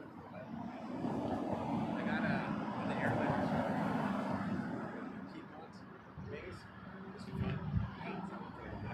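An airliner takes off at Toronto Pearson Airport, its engines giving a broad, sustained roar at a moderate distance that swells and slowly fades, under bursts of radio chatter.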